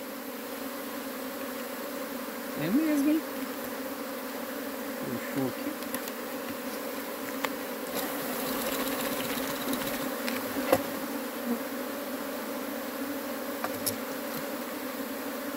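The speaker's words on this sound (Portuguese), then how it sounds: "O alimentador fica cheio de abelha" A steady, dense buzz of many honeybees around a hive and feeder hums throughout, with a few brief quiet voices talking close by.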